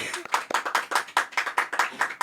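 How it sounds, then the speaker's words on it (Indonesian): A small audience at a talk on vocational students reaching Big Four firms claps in a quick, even rhythm, sharp distinct hand claps repeating about five times a second. "berikan tepuk tangan dong teman-teman yang ada di belakang"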